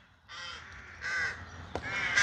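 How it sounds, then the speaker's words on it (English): Crows roosting in trees beside an old family grave, cawing in several harsh calls one after another, fairly close and loud, with no talk over them. "And those crows, they're roosting all up in the trees here. Noisy."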